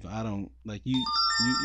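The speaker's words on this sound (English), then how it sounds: "That was my phone." Mobile phone ringtone chiming in sustained electronic tones that rise and overlap, starting partway through and playing under a man's speech.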